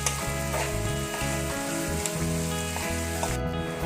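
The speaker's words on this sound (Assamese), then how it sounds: "ভালদৰে পিঁয়াজখিনি ফ্ৰাই হৈ যাওক।" Onions fry in a pan over a medium-high gas flame for a stuffed papad roll filling, giving a steady sizzle throughout with tonal music playing alongside.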